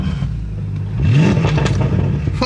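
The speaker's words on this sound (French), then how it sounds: "quand tu mets la voiture en mode sport comme elle est maintenant, tu mets des petits coups de gaz" A loud car in sport mode is blipped with short throttle jabs, its low exhaust drone rising into one quick rev and then settling into a rough, crackling idle, close and heavy.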